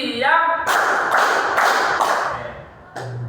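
A second-grade primary school class doing a rhythmic clapping drill, a few loud bursts of hand claps in a short pattern, with children's and a teacher's voices chanting between the claps.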